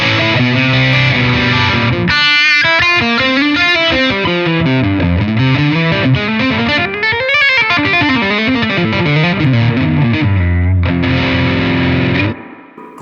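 An electric guitar plays a fluid, distorted lead line through a Laney Loudpedal amp with the bright switch down, a loud, close, sustained, singing tone with bends that ends in a held note before cutting off.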